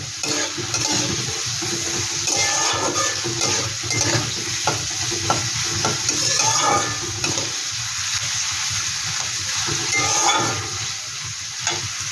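Potato frying in a pan, a continuous dense crackle and sizzle with occasional stirring scrapes, close and steady throughout.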